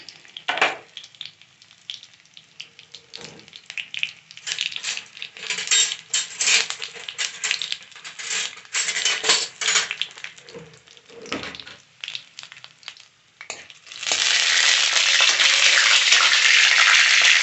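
Mustard seeds, dried red chillies and garlic crackle and pop in hot oil, first as scattered sharp spits and clinks, then a sudden loud, steady sizzle near the end as more goes into the pan.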